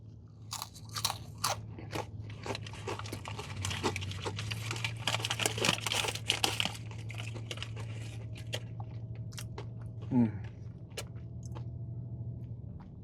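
Fast-food fries, shaken in a seasoning bag, are eaten up close with rapid, repeated crisp crunching and chewing over a constant low hum, and no one speaks.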